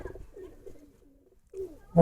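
A pigeon coos softly a few times at close range, low murmuring calls in a quiet backyard pigeon loft with vegetable garden, ending in a brief louder coo.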